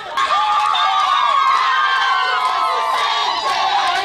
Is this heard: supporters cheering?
yes